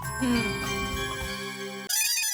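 A phone rings with a melodic ringtone in a Hindi sitcom scene, bright tonal notes playing steadily for almost two seconds, then a sharp shift into a brighter jingle at the end.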